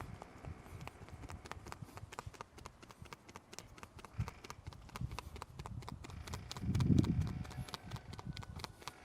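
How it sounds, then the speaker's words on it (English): Loose fingers tap rapidly and evenly on a pig's rump during an animal chiropractic session, producing a soft, steady patter of light thumps heard close up at low volume with faint background rustling. "All right, let's do a little percussion."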